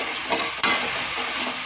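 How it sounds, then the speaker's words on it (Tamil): Coriander and mint leaves sizzle in hot oil as they are stirred for vegetable biryani, with a steady frying hiss broken by a few louder scraping strokes of the spoon in the pan. "ஒரு 2 டைம் நம்ம கரட்டி விட்டோன்னா போதும், அவ்வளோதான்"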